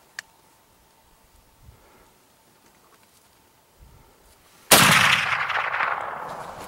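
A single rifle shot fired while hunting, with elk hunting in Arizona: one loud, close crack that breaks a near-silent outdoor scene, then a long rolling echo fading over the next two seconds.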